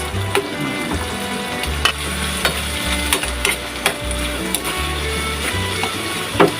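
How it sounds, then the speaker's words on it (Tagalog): Baguio green beans stir-fry in a pan for a pork giniling dish, a steady sizzle broken by repeated clicking scrapes of a utensil against the pan, close and moderately loud. "I-fry lang natin yung ating bagyo bean."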